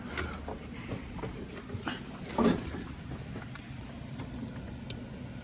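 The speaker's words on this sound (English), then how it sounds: "So we'll just turn the car on, let it run." A Mercedes S600 W221 sedan engine starting up with a short loud surge midway, then settling into a quiet, low steady idle under faint background noise.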